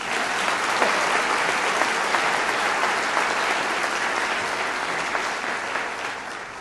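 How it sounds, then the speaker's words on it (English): A large audience at a University of Guelph convocation ceremony claps for the deans, a continuous even wash of applause, loud and unbroken throughout. "How about a round of applause for the deans for reading all of the names?"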